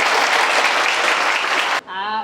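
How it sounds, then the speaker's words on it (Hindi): Loud, dense applause fills most of the moment, then cuts off abruptly as a voice begins speaking. "एक बार मैम लोगों के लिए जोरदार तालियां होनी चाहिए।"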